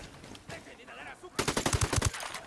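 Rapid automatic gunfire from the video game Ghost Recon Wildlands rattles out in a loud, close burst of about ten shots after a softer stretch of background game sound.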